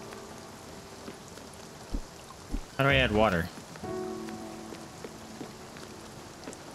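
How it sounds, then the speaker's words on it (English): Rain in the video game Spiritfarer gives a steady, soft patter and hiss across the whole stretch, with a person briefly speaking over it midway. "Hey, it's raining."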